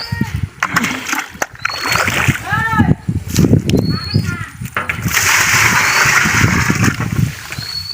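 Cow dung being mixed by hand with pond water in a container to make fish feed: splashing and sloshing in bursts, growing into steadier churning near the end, while a person talks over it.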